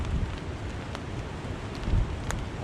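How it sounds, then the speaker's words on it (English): Strong wind and rain lash a solo stealth camp in the UK, set under a tarp with a Snugpak Stratosphere bivvy. A steady, close roaring gust noise with rain patter runs throughout, and no one speaks. "the wind's picking up, the rain's coming in."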